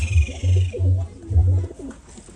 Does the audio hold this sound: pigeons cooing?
yes